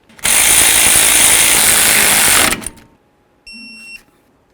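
Power ratchet driving caliper bracket bolts on a 1994-2004 Chevy S-10, a loud close buzzing run of about two seconds, then silence and a short faint tonal whine.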